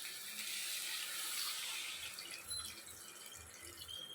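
Water poured into an egg and potato masala curry cooking in a pan, a steady broadband hiss and gurgle that fills the whole stretch, fairly close and even, with no voices.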